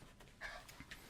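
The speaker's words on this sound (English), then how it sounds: "My dog's coming in to say hello." A dog pants softly in a quiet indoor room, giving a few quick, breathy huffs in a short burst close by.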